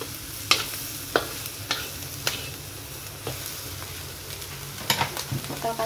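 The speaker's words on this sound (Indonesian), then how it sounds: "Baru saya masukkan sayur gambusnya, lalu dioseng, aduk seperti ini teman-teman" Gambas vegetables stir-fried in a pan, with steady sizzling frying and a series of sharp scraping strokes from the spatula spaced through the clip.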